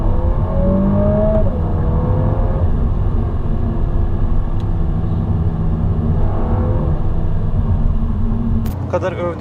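A Volkswagen Golf 8 R with a 320 HP engine revs loudly and steadily up close, a sustained throaty rumble with rising and falling pitch that runs throughout.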